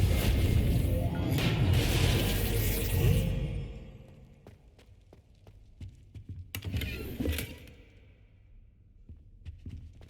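A Reparo repair spell in Hogwarts Legacy starts as a loud whooshing swell, then brings a string of clicks and clattering knocks as pieces snap back together, and a second shimmering burst follows.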